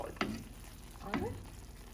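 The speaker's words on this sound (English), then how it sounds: "Mix it well and let all the vegetables simmer in the spices" Vegetables simmering in spices and salt for a veg lasagna sauce are stirred in a pan, two distinct scraping strokes over a low, steady sizzle close by.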